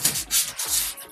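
Polystyrene packaging being rubbed while an MSI Pro MP271 monitor is unboxed, several short, scratchy squeaking strokes in quick succession, close and fairly quiet.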